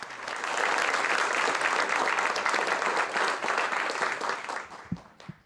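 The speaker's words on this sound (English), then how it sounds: "let's please give these gentlemen a wonderful round of applause" A room full of people gives a warm round of applause after a talk on the Texas State Bison Herd, a dense, loud wash of clapping that holds steady, then fades out near the end with a few stray thumps.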